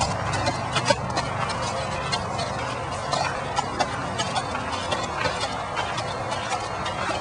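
Hooves of a horse ridden bareback clip-clop in a steady, irregular rhythm through continuous outdoor background noise, moderately close, with faint voices mixed in.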